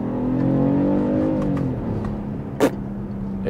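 A BMW X1 30e three-cylinder engine pulls hard with a rising, throaty drone that peaks and then settles into a lower hum, heard loud and close from inside the car.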